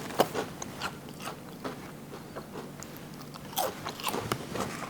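Homemade cottage cheese keto Dorito chips, fried and a bit burnt, bitten and chewed close to the mic with sharp crisp crunches that come irregularly and grow busier near the end, without talk.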